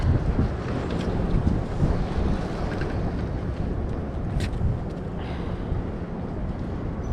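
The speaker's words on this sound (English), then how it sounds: "The wind is going to send me home, and quickly." Strong wind buffets the microphone in a steady, loud roar that lasts throughout, with gusty swells and no voices, heard on a walk around Hell's Kitchen.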